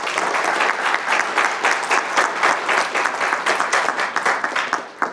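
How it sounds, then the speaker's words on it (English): A press conference audience breaks into a steady round of applause, dense overlapping claps holding at an even level throughout with no talking. "So can we give them a round of applause?"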